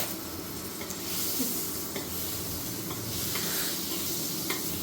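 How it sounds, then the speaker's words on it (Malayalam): Butter melts in oil in a pan for paneer butter masala, producing a steady, moderately loud hissing sizzle with occasional small pops. "ഇനി ബട്ടർ ഫുള്ളാ മെൽറ്റായിട്ട് വരുമ്പോൾ"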